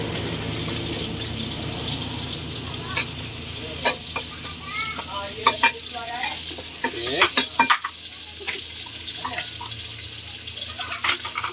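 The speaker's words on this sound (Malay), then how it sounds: "Tumis sebentar." Stirring and scraping in a hot wok over a steady sizzle, with irregular clanks and splashes of liquid, frying chicken for mee goreng basah; no talking.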